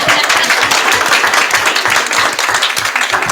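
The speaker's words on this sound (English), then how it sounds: "You guys can clap." A school board meeting audience claps for sixth grade science presenters, a loud, dense patter of many hands filling the room without pause.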